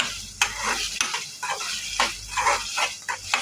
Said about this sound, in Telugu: ఇవన్నీ కలిపి మొత్తం బాగా కలుపుకోవాలి